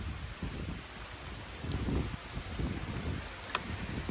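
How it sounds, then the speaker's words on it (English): Rain falls hard on an Amsterdam neighbourhood street, a steady wash of patter and gusty rumble of wind across the microphone, with scattered sharper drops, and no one talking. "it's raining like crazy"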